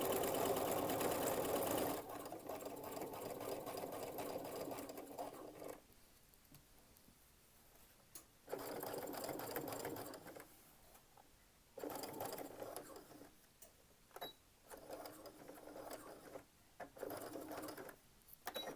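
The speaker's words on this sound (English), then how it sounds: "And we're just going to top stitch real quick." A sewing machine top stitches a fabric wine bottle gift bag, its needle whirring in several bursts of steady, fast stitching separated by short pauses, close but fairly quiet, with no talk.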